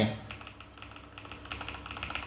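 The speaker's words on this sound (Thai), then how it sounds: "ตัวแท็บเล็ตรองรับใช้คีย์บอร์ดหรือว่าพิมพ์ไทยอยู่นะครับ" Rapid keystrokes tap on a keyboard attached to a TCL NXTPAPER 11 tablet, a close, quiet, irregular clicking that grows denser toward the end.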